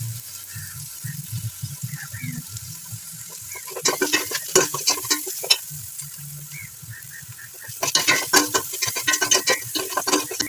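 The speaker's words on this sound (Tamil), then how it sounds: "இது சாரி, இதுக்கு பேர் வத்தல் மிளகாய் பிச்சு பிச்சு போடுறேன்" Torn dried red chillies fry in oil in a pan as close, bursts of crackling sizzle and stirring scrapes alternate with quieter gaps holding low clatter and faint murmurs.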